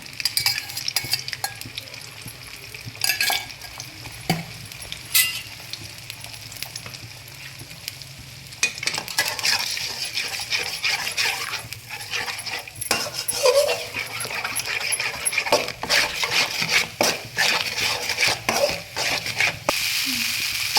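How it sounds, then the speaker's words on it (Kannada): Beaten egg frying in a little cooking oil and stirred in a pan for fried rice, with a steady broadband sizzle and repeated scraping stir strokes throughout, moderately close. "ಬೀಟ್ ಮಾಡಿ ಇಟ್ಕೊಂಡಿರುವಂಥ ತತ್ತಿನೂ ಹಾಕ್ತಾ ಇದ್ದೀನಿ"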